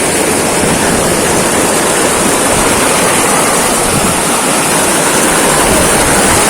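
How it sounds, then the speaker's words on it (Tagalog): A strong river current rushes over rocks in a loud, unbroken roar of churning water, heard close by and steady throughout with no other sounds. "lakas ng agos"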